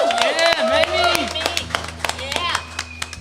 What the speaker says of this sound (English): Let's have another big round of applause for our first act, Mamie Lew